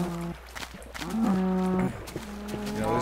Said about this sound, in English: Cows, enclose them.